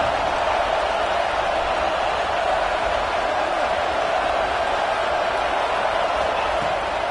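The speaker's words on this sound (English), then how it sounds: "this crowd trying to help keep them there" A football stadium crowd gives a continuous, loud, dense roar of cheering that holds steady throughout, distant and wide, with faint voices buried in the wash of noise.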